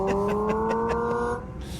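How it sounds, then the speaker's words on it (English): A Chinese electric car plays a simulated gasoline engine sound, a loud steady drone with a slowly rising pitch, like a car accelerating. It cuts off abruptly near the end, leaving quieter background noise. "I could change a setting so that this EV sounds as though it's running on gas."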